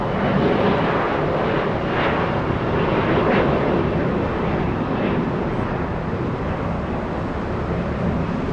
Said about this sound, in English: SkyWest 3424 heading to San Francisco. That's an Embraer E175.